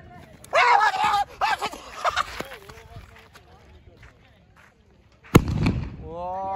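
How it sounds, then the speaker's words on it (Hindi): A cheap Diwali firecracker bomb goes off outdoors with one sharp, loud bang near the end, after stretches of excited voices talking and shouting. "डाकू बम"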